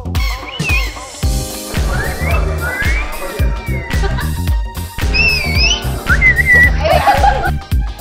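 TV stars attempt whistles during a whistle challenge: several short, wavering whistled tones, some strong and some breathy, mix with laughter and giggling over lively background music.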